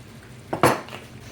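A spoon scrapes and clanks against a pot as shrimp and rice are stirred together, two short metallic knocks close by with no talking.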